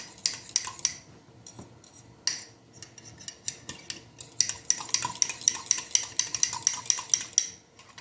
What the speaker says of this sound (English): Make sure it's all stirred up.